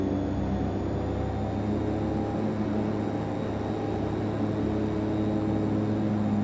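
A DHC-6-300 Twin Otter in FSX flight simulator holds a steady, droning propeller-engine hum with a constant tonal whine, unchanging and fairly loud throughout.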